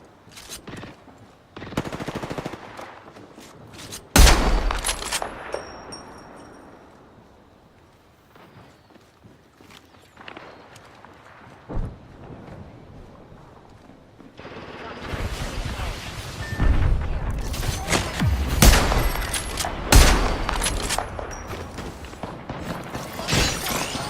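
Gunfire in a video game sounds as sharp, loud bursts scattered at first, then thickening into a dense, rapid volley near the end, with clattering impacts between shots.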